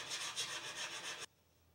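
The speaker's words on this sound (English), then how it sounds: "I use a fine draw file to level the surface a step further" A fine draw file is pushed across a metal part clamped in a bench vise during a surface repair, making seven or so steady, close rasping strokes that end abruptly, leaving quiet.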